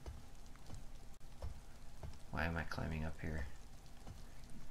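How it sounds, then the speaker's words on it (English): Heavy pouring rain patters steadily throughout, a dense wet hiss around the listener, while someone speaks briefly in the middle. "It's pouring rain."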